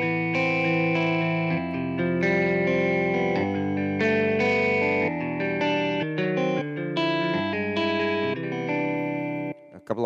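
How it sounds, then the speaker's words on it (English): A sustained, harmonically rich distorted guitar patch on a Yamaha S670 keyboard, played as chords changing every half second or so, loud and continuous before cutting off at the end. "A couple of pages, distortion guitars, which are, actually never good on keyboards."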